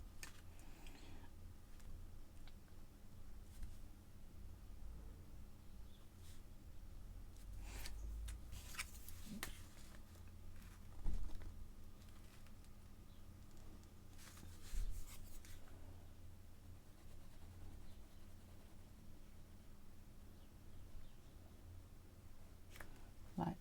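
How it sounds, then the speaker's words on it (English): Pen scratching and scribbling across paper while music notes and a stave for a psalm are drawn by hand, a soft, quiet, intermittent rasp with occasional louder strokes and taps close by. "I'm just drawing the other bits of the notes now"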